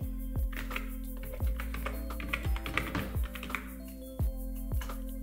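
A password typed on a Mac keyboard: scattered, close, light key taps at an irregular pace, with a few sharper clicks over a steady low electronic hum.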